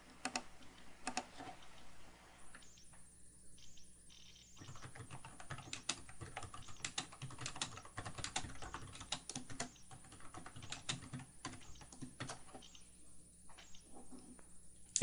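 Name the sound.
typing on a computer keyboard to enter repair information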